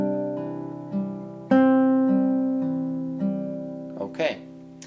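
An acoustic guitar picks one measure of a song arrangement: plucked notes ring and decay, with a louder melody note struck partway through and a brief scrape near the end.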